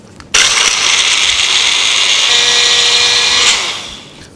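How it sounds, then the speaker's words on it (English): Biscuit pieces grind in an electric mixie jar, a loud, sustained high-pitched whirring roar that starts abruptly, holds steady for about three seconds and then winds down, with no voices. "So I'm going to put the biscuit into a mixie jar"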